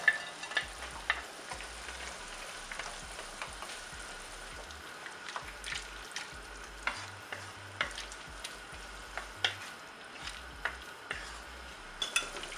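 Chilli chicken gravy bubbles at a quiet simmer in a pan after fried chicken is added, with soft popping and occasional light stirring clicks, faint and without talk.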